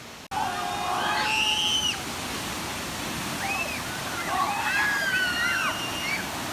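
At a Six Flags water ride, a waterfall pours down out of a little cave in a continuous rushing spray, with thin high squeaks and whistles riding over the steady roar.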